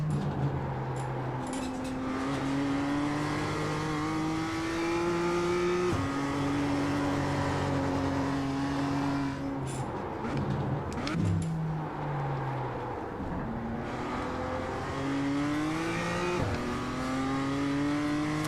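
A GR86 race car in a sim racing game lapping Tsukuba, its engine note climbing steadily through the gears with repeated drops on shifts and braking, loud and continuous with tire noise throughout.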